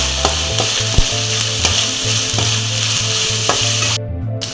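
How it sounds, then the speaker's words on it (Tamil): Small onions and slit green chillies sautéing in a pan for an egg masala gravy, giving a loud, steady sizzle with stirring scrapes, close and without talking. "ரெண்டு பச்சை மிளகாய் கீறி வச்சுருக்கேன் இதையும் சேர்த்துக்கலாம் நல்லா வதக்கி விடலாம்"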